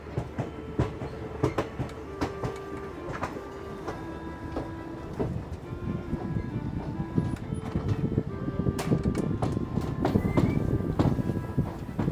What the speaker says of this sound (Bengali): আমাদের ট্রেন এই ছাড়লো, আর এখন বাজে 3:10, আর ট্রেন এই ছেড়ে বেরোলাম।